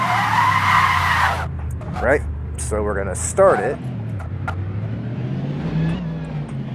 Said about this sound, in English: this time we're going to let the car drift